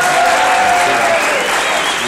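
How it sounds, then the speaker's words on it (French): Studio audience at a French television show applauding, a dense, steady wash of many hands clapping that stays loud and even throughout, with no voices standing out. "ça méritait bien ces quelques applaudissements extrêmement spontanés"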